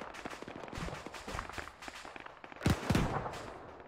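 Explosions and gunfire in a military video game, a run of sharp cracks and thuds that peaks in two heavy booming blasts near the end, fairly loud and without talking.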